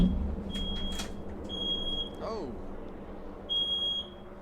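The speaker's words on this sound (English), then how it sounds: "Goddamn smoke alarm." Household smoke alarm chirping in repeated high-pitched beeps, mid-level and steady, sounding over a man's exclamation and background race commentary from a NASCAR broadcast.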